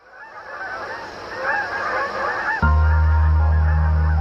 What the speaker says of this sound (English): a guide to the Canada Goose, a symbol of this great country, and as you'll hear, really annoying